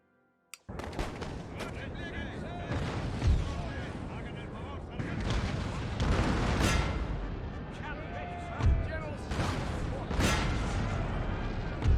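Musket volleys and artillery fire in a Napoleon: Total War battle with British forces: repeated booming blasts and crackling volleys roll on continuously after a silent start, with several heavier thumps.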